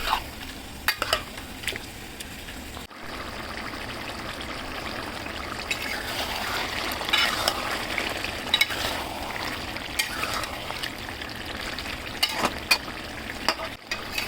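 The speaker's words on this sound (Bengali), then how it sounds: "চিকেনটাও দিয়ে দিলাম দিয়ে এটা এখন চুলাটা একটু আস্তে করে দিয়ে চিকেনটা আগে ভালোভাবে কষাবো" Chicken with spices and tomato sautés in a pan over a low flame, giving a steady close sizzle broken by occasional sharp stirring clicks and scrapes throughout, with no voices.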